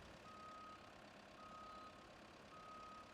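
Flatbed truck in the video game Roadcraft reversing, three evenly spaced steady electronic beeps over a constant low engine hum, with no talk.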